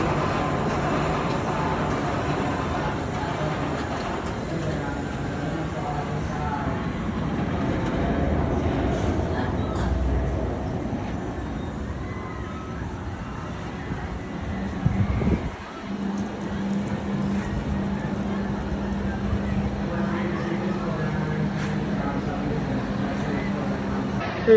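Riding the Nitro roller coaster at Six Flags Great Adventure: a steady, loud rushing roar of wind and track rumble runs throughout, with a brief dip in the middle. Voices can be heard under the noise.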